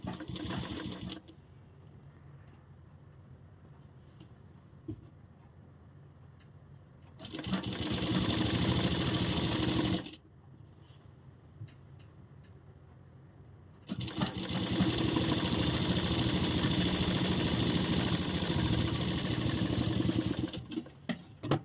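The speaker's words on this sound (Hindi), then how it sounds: "और यहाँ से हमारी सिलाई शुरू हो जाएगी।" A sewing machine stitches a kurti sleeve to the armhole in two loud, steady motor-driven bursts of rapid needle rattle, separated by quiet pauses, close by with no talking.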